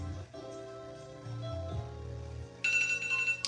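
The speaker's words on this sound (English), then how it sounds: "That's my alarm to kind of keep me on task." A phone alarm ringtone plays a steady electronic tone pattern at moderate level, ending in a brighter, higher chiming burst.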